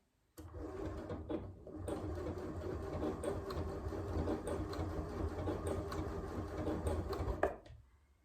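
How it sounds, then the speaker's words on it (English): A sewing machine stitches bed sheet fabric in one steady, loud run of about seven seconds. It starts abruptly after a short silence and stops just before the end. "make sure your fabric is straight going in and coming out of the machine"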